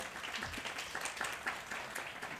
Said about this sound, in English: let's give a round of applause for our wonderful panelists.